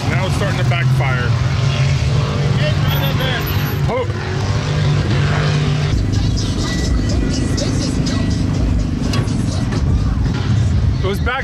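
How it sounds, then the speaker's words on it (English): An RV engine runs loud and rough, with a few sharp backfire pops breaking through the steady motor roar while voices talk over it. "Now it's starting to backfire."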